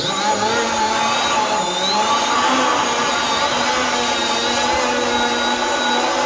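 A small power tool with a sanding attachment scuffing metal in preparation for TIG welding, a continuous whining buzz with shifting pitch that runs loud and close throughout.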